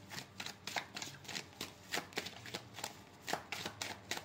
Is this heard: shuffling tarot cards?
yes